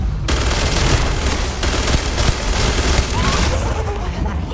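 Heavy gunfire fills the scene in the video game Starfield, a loud, dense fusillade of rapid automatic bursts and booming shots that runs without a break. Voices shout underneath the firing.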